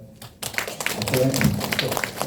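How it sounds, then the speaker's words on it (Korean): An audience of elderly people at a seniors' association lecture in Guro-gu breaks into clapping after a moment of near silence. The applause is moderately loud and uneven, mixed with a voice talking over it. "다시 한 번 더 아까 뜨거운 박수 한 번 더 부탁드리겠습니다"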